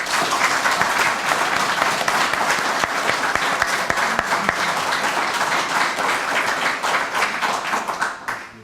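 An audience applauds in a hall, dense sustained clapping from many hands that holds steady for several seconds and then tapers off at the end.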